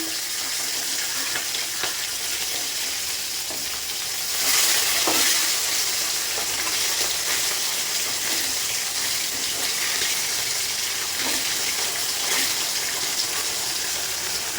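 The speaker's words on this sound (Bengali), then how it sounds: "আলু পটল দিয়ে বাটা মাছের ঝোলটা করব তাই প্রথমে মাছটা ভেজে নিই" Bata fish packed with roe fries in a pan with a loud, steady sizzle and scattered pops and spits that never let up; no voices are heard.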